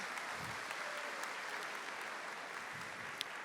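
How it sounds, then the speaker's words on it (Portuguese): A church congregation at a Catholic sermon breaks into steady, distant applause, a continuous wash of clapping that stays even throughout without any voices over it. "Vamos aplaudir o Senhor Jesus"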